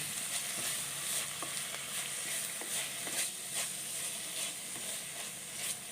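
Ponnamkanni spinach wilts in hot oil with a steady, close sizzle and crackle, punctuated by light, repeated stirring taps and scrapes; no voices are heard.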